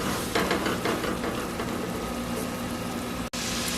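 Garlic being stirred into a pot of simmering broccoli cheddar soup gives a steady bubbling, hissing simmer, close and even throughout, with no voices.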